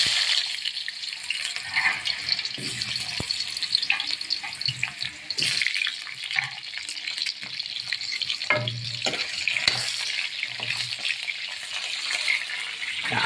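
Potatoes frying in a pan, a steady bright sizzle running throughout with occasional stirring clatter and soft knocks, close and moderately loud, no talking.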